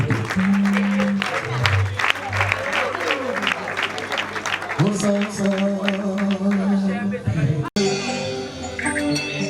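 Applause from an audience greeting a performer at a live event, a steady clatter of many hands running throughout with voices and music-like tones mixed in underneath.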